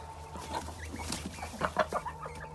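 Chickens cluck inside a coop shared with a rooster and ducks, scattered short clucks and murmurs at close range over a low steady hum.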